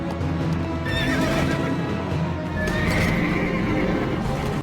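A Hell Charger, a burning demonic horse in a Heroes of Might and Magic video game, gives two loud, close whinnies with clip-clopping hooves underneath and a rumbling background.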